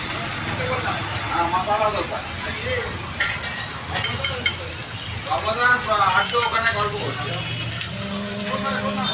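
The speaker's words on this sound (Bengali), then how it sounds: "পাওটাকে ভাজি করছে, এবার দেখো।" Pav bread sizzles and fries on a hot street-food griddle for pav bhaji, a continuous hiss and crackle with clinking and scraping, while people talk nearby.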